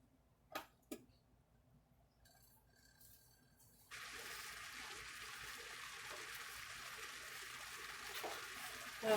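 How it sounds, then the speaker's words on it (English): A pot of water with a teaspoon of salt comes to a boil on the stove, a faint bubbling hiss that rises and holds steady after a few soft clinks, close by with no talking. "Okay, so I hear it boiling."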